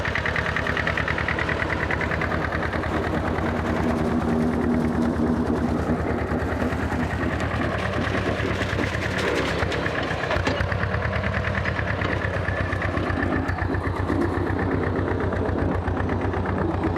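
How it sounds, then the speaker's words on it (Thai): A Yanmar YM27 two-cylinder engine drives a grass-cutting attachment, running close by with a loud, steady, rapid knocking beat. A brief surge of load comes near the middle of the run. No voices are heard. "นี้ขนาดใช้เครื่องยันมานะครับ YM 27 นะครับ เครื่องสองสูบเองนะครับ"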